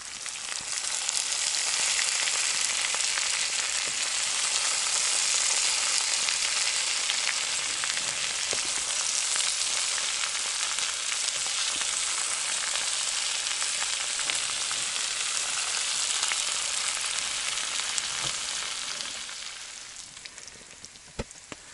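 Potatoes with onion and spices fry in a pan at a taiga camp, a dense, steady sizzle and crackle that holds loud and even before easing off at the end, with no talking.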